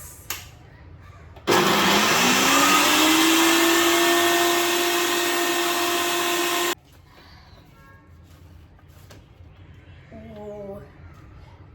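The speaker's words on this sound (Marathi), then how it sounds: "आता आधी हे वाटण वाटून घेऊया" An electric mixer grinder blends a wet spice paste for a vada pav chutney, starting abruptly with a loud steady whine that rises in pitch, running about five seconds close up, then cutting off to a quieter room with brief clatter.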